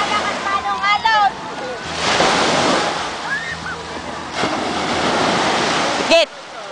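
Surf washes and rolls in surges at Laiya beach, San Juan, Philippines, roaring broadly with wind buffeting the microphone, while voices call out over the water.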